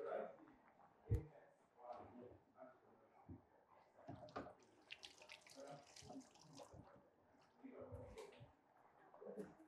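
Water runs from a kitchen tap while hands are washed, a faint, uneven splashing stream with voices murmuring in the background.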